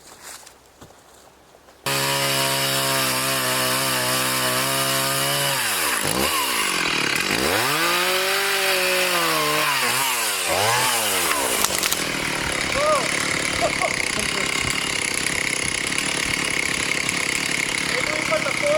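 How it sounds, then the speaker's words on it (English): A chainsaw starts with a sudden loud roar and cuts into a rotten tree, its pitch dipping repeatedly as the blade bogs down under load, then settling into a steady high whine. "That's a pretty nice chainsaw."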